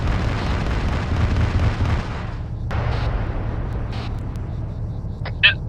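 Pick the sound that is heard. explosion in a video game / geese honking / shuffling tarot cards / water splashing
explosion in a video game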